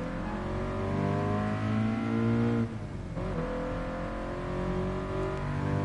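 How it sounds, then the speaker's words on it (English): The Back to the Future car's engine in Gran Turismo Sport, loud and close, revving steadily with layered harmonic drone, a brief dip as the throttle eases, then climbing again. "It's the Back to the Future car."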